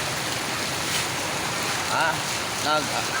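A boat engine hums beneath wind and lapping water, with a couple of brief rising motor whines toward the end.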